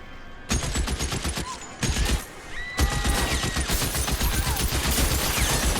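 Gunfire in the L.A. Noire video game: a dense, chaotic firefight of rapid overlapping shots and bursts in a shootout scene, loud and continuous through most of the stretch with brief lulls.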